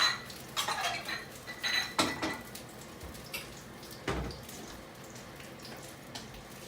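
A fork taps and clinks against a small bowl in a kitchen, several bright ringing hits at first, then sparser, quieter clicks.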